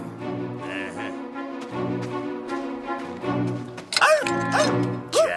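Several dogs bark and yip in a vintage Christmas TV program, excited woofs and whimpering yelps repeating over a music-like background, growing louder and higher near the end.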